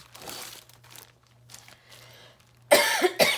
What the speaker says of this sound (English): my apologies for my continued cough